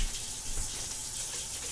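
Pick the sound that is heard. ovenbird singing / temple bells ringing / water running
water running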